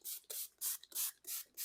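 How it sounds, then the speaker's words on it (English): Quick spray-bottle bursts mist coffee onto open book pages held with clothespins, five short hissing puffs in an even rhythm, close and fairly quiet with no talking. "and just do a little bit of spray"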